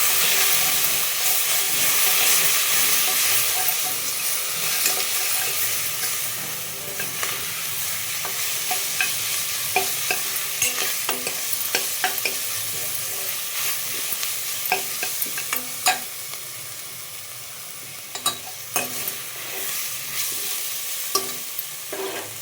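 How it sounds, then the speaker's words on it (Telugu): Ginger garlic paste and turmeric fry in a pan for chole masala, a loud continuous sizzling hiss with frequent small crackles and spoon scrapes running throughout. "అల్లం ఎల్లిగడ్డ పేస్ట్ పసుపు వేసేసుకొని ఇవి రెండు పచ్చి వాసన పోయేంత వరకు మంచిగా వేగనిద్దాం"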